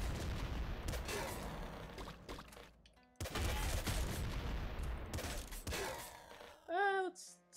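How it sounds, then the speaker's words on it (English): Dense, relentless bursts of machine-gun fire from the quadruple machine gun in Nuclear Throne, loud and continuous with a brief gap midway, ending in a short rising electronic chirp. "Quadruple machine gun? What?"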